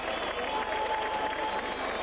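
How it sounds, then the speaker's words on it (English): A home crowd at Widnes cheers and applauds as the Widnes rugby league side runs out for a 1988 Lancashire Cup match against St Helens, a broad, steady roar with a voice speaking over it. "Big cheer from the local crowd here at Widnes"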